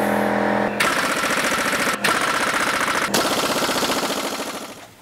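An air impact wrench driven by a small home compressor hammers on the crank bolt of a Honda J35 engine with a heavy socket, firing three loud, close bursts of rapid rattling hits separated by brief pauses, the last one trailing off.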